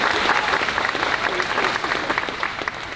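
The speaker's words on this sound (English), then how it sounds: "I believe I hear my doctors applauding." An audience breaks into applause, a dense, continuous patter of many hands clapping at steady loudness throughout.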